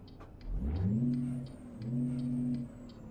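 A truck engine in American Truck Simulator revs up and holds in two swells, fairly quiet, with a faint high whine above it.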